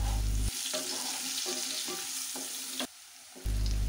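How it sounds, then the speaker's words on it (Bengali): Potatoes and carrots fry together in a pan with a little salt, giving a steady close sizzle that drops out briefly near the end before returning. "প্রথমে আমি আলুগুলো দিয়ে ভেজে তার সাথে গাজরগুলো দিয়ে একসাথে ভেজে উঠিয়ে নেব"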